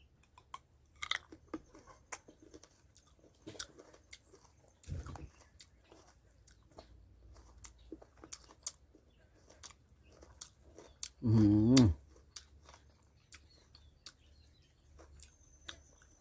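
Crisp bites and crunching on Doi cherries, a crunchy fruit, come as a few scattered close chews, with one louder burst of crunching near the end, set against a quiet room with no talking.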